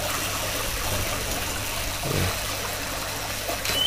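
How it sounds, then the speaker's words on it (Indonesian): Water flows and trickles steadily close by, a continuous rushing stream in an aviary running toward a waterfall, with no voices. "itu kan air sungainya mulai dari sana mulai ke sini ke air terjun yang kedua"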